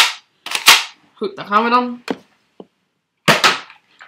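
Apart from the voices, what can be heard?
Nerf Zombie Strike Sidestrike blaster firing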